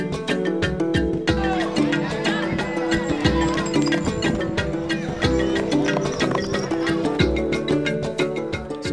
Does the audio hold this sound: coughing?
no